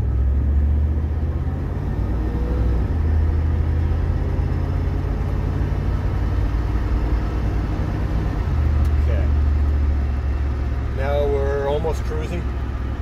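A car with a 318 engine and a Holley four-barrel carburetor accelerates on the road, giving a loud, steady low rumble throughout, with a brief faint voice near the end.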